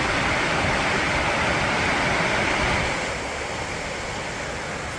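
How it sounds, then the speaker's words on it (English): A river rushes through a cut rock gorge near an old coal mining ghost town in Melmont, Washington, giving a steady broadband roar that eases slightly toward the end, with no voices. "There's the river, and it's cut gorge."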